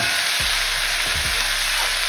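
Chickpeas tipped into a pan of toasted spices and potatoes set off a steady, close sizzle and frying hiss, with a few soft stirring thumps and no talking.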